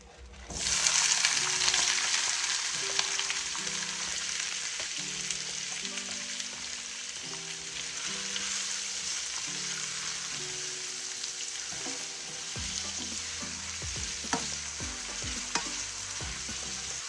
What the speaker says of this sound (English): I am going to fry up my seasoning first, then I add my curry in guys.